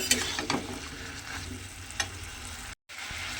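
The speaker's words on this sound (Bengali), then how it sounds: "সেই আদাটা আমি এর মধ্যে দিয়ে দেব দিয়ে আবারও কিন্তু খুব ভালোভাবে একটু কষিয়ে নিতে হবে" Grated ginger sautés in a pan for a chickpea curry, a steady sizzle with spoon scrapes and a few sharp clicks, briefly cut to silence near the end before the frying resumes.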